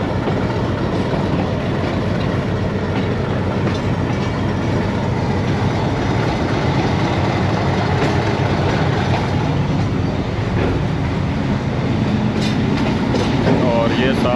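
Rawalpindi Passenger train rolling through the Rawalpindi railway station yard, a steady loud rumble with rhythmic wheel clatter that continues throughout, close and unbroken.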